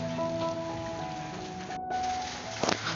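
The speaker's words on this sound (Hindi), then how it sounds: "बहुत तेज़ बारिश" Heavy rain falls in sunshine in a dense, continuous hiss, with a brief soft clatter near the end.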